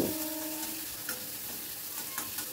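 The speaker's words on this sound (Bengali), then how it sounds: "রসুনের কাঁচা ভাবটা যখন চলে গেছে তখন এর ভেতর আমি দিয়ে দেবো পেঁয়াজ কুচিটা, দিয়ে আবারও সব কিছু ভালো করে মিশিয়ে নিচ্ছি।" Chopped onions and garlic sizzle and hiss in a hot pan over a medium-high flame, with scraping stirring strokes close up and no talking.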